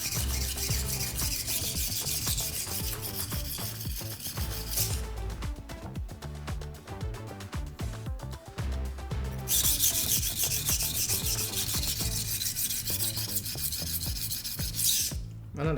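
A chipped knife is ground on a whetstone in a sharpening workshop, giving repeated rhythmic back-and-forth scraping strokes. The strokes are close and steady and heard alone, with a brief lighter passage midway.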